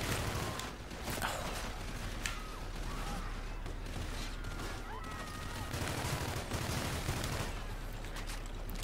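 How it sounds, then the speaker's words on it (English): Scattered gunfire in the sci-fi video game Call of Duty: Infinite Warfare, moderate shots and short bursts over a low humming ambience with occasional mechanical creaks and brief voices. "Hey, who's shooting me?"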